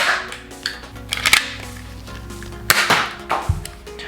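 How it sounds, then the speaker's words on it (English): Nerf Zombie Strike blaster cocked with a quick plastic clack, then fired with a sharp snapping pop, followed by a few more light plastic clicks, all close and loud. "You just cock it like that, and you aim and fire."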